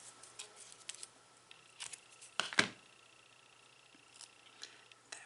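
Scissors cut adhesive tape for a scrapbook layout: a few faint, sparse snips, with one sharper, louder cut near the middle, set against a quiet room.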